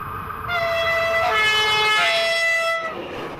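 A Märklin model TEE train at a miniature Melide station on the Gotthard line sounds a steady, bright horn tone for about two seconds over a low running rumble.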